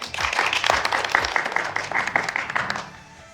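An audience applauds after a talk on standing up for yourself in tech jobs, a dense steady patter of many hands clapping for about three seconds before fading out.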